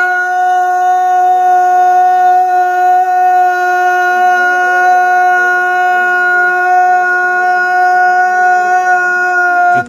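A dog howls in a long, loud, sustained wail with a steady pitch and little break, close to the listener, with no voices over it.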